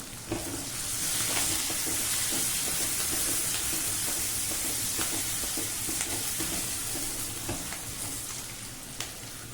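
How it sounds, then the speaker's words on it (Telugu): Okra fries in a pan with a constant close sizzle, punctuated now and then by soft scraping stirs and small pops. "ఇట్లా వేయించుకోండి ఇట్లా వేగుతుంది కదా"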